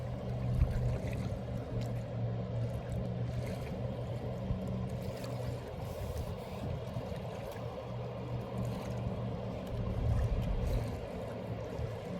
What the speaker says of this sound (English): Hear a boat coming.